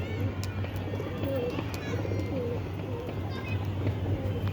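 Pigeons cooing around a rooftop pigeon house as birds land, soft repeated low coos over a steady low hum, with people talking nearby and faint children's voices in the background.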